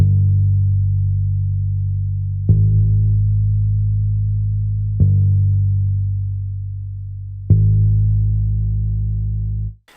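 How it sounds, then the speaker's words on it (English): A synth bass in Logic plays a simple two-note line for a beat: deep, sustained low tones retriggered every two and a half seconds, loud and droning with no other sounds. "So I played this very simple 2-note kind of bass line just to go with the original chord progression in the main melody."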